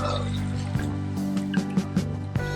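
Water poured into a pan of sautéed mussels (ginisang tahong), a steady liquid fill with a few soft splashes and drips over a constant low hum, close by.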